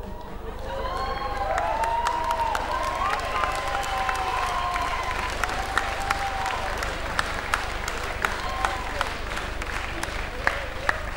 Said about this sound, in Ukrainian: Доречні аплодисменти вождю.